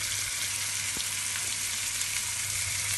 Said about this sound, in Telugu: కరివేపాకేస్తున్నాను చూసారు కదా అలా వేగిన తర్వాత